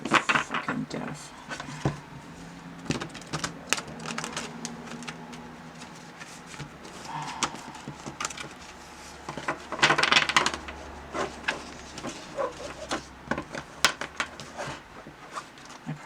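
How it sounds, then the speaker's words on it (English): Playing cards are shuffled by hand in short, crisp bursts of riffling and slapping, interspersed with clicks and taps on a table, while a person talks intermittently. "I'm going to shuffle them a little bit more before I get started."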